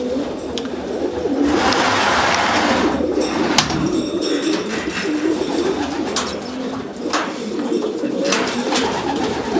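Racing pigeons coo in a steady, layered murmur inside an open loft with little draft, birds close by, with occasional soft flutters and faint voices in the background.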